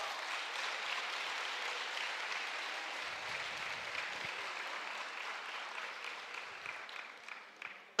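A church congregation applauds in a steady, dense wash of clapping that holds for several seconds, then thins out toward the end, heard from within the room.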